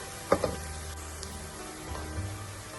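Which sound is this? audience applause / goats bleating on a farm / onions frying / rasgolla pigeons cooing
onions frying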